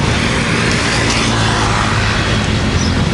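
Road traffic crossing a bridge in Danang, Vietnam, heard as a loud, continuous wash of vehicle noise with no break or lull.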